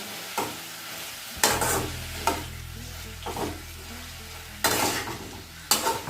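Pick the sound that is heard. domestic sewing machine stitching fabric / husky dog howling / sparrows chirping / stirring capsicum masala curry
stirring capsicum masala curry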